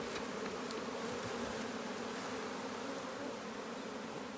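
Steady, close buzzing of many honeybees left inside a hive box, a dense continuous hum with no voices over it.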